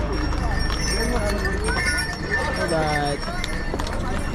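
Horses plodding along the Kedarnath pilgrimage trek path, steady hoof clip-clop running through the whole stretch beneath nearby conversation.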